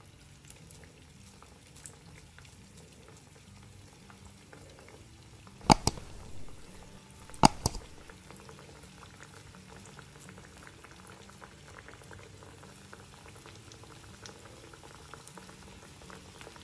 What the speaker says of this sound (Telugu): ఇలా ప్రెస్ చేసుకున్న వాటిని ఇప్పుడు ఈ ఆయిల్లో వేసి వేయించుకోవాలి.